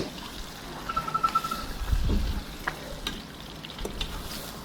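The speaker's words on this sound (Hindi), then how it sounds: "इनको हल्का हल्का फ्राई करना है।" Soft sizzling and frying of bone-in mutton pieces and a little fat in hot oil, with occasional stirring scrapes, a low steady crackle close by, fairly quiet.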